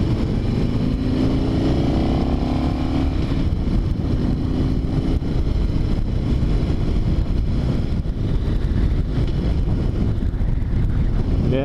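A Harley-Davidson motorcycle cruises in third gear at about 40 mph, its engine rumble steady and continuous beneath heavy wind buffeting on the microphone, with no voices heard.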